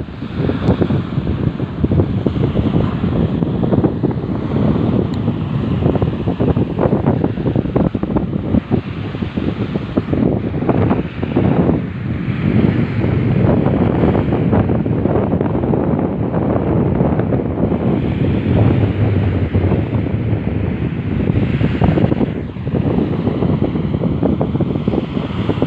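Strong wind buffets the microphone over heavy surf pounding a southern beach, a loud continuous roar of gusts and crashing waves with no voices.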